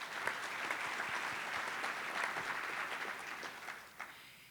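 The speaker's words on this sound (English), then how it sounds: "Give yourselves a big round of applause." A crowd at a chamber of commerce annual meeting and awards breakfast applauds steadily, a dense wash of clapping from many hands that holds for several seconds before tapering slightly.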